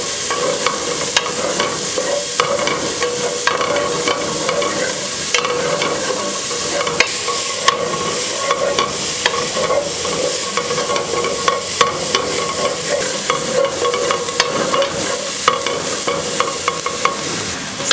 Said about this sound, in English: we will add our onions. We'll saute this for about 5 minutes until they turn translucent.